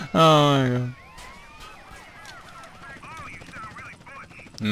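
A police helicopter in GTA San Andreas hovers amid chaotic game action, its rotor drone running under whooping siren-like tones and scattered effects, with a loud voice bursting in at the start.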